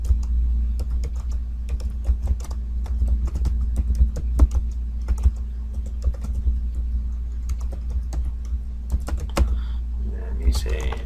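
A comment being typed on a computer keyboard, quick irregular clicks of keys in bursts, close and clear over a steady low background hum.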